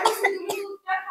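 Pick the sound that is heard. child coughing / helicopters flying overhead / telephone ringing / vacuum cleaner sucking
child coughing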